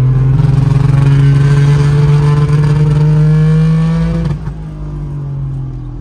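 A modified 1961 Saab 96 drives close up, its engine droning steadily and climbing in pitch under acceleration, then dropping sharply as the driver shifts gear near the end.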